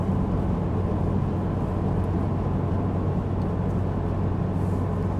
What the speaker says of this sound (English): The engine hums along, sounds just like it should.